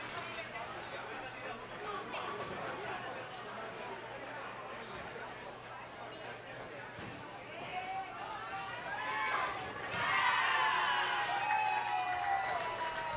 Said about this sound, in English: Crowd getting pretty amped up here as we prepare for medal round